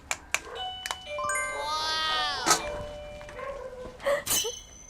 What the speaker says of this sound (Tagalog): Ayun pala, may doorbell na.